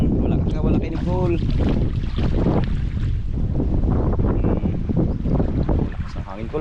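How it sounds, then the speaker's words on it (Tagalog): Heavy wind roars across the microphone while people talk and shout nearby, the gusts continuing loudly throughout. "Lakas ng hangin"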